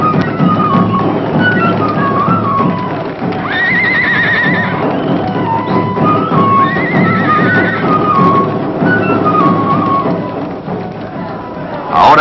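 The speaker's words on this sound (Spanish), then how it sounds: "Estos caballos andinos, menudos y fuertes, ya no tienen la arrogancia de los caballos conquistadores." Small, sturdy Andean horses neigh and whinny repeatedly over steady hoof clip-clops as they thresh the harvest, with a busy crowd murmuring underneath, loud and close throughout.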